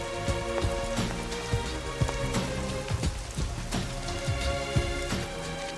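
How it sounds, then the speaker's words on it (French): Heavy rain pours down steadily, a dense close patter of drops striking surfaces with irregular louder splats throughout, with no voices. "Parce qu'il pleut beaucoup."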